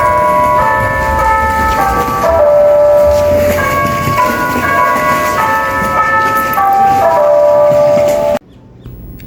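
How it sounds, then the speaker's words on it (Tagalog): Catholic church bells in Mexico ring out loudly and close, overlapping clear tones struck in a repeating melodic pattern for several seconds before cutting off abruptly, leaving faint background noise. "naririnig nyo nga yung bell. Galing ho yan sa simbahan nila."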